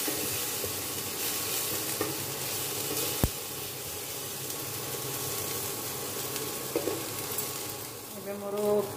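Jackfruit fritters fry in a pan with a continuous close sizzle and hiss, punctuated by a few sharp clinks and stirring scrapes.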